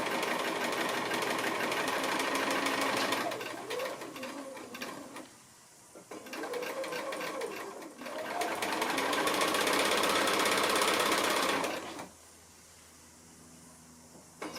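A sewing machine chain piecing quilt blocks, a fast steady mechanical whir running continuously with brief pauses between pieces, close and clear with no talk.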